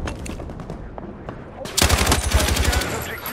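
Machine gun fire in a video game: scattered single shots at first, then a loud rapid burst of automatic fire, with a player talking and laughing over it.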